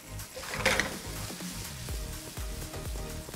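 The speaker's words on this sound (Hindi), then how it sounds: "ये भटमास की चटनी के लिए जो टमाटर है ना, इसे अच्छी तरह से भूनना पड़ेगा।" Tomatoes with salt roast in a pan for bhatmas chutney, giving a steady, close sizzle with a few soft stirring scrapes.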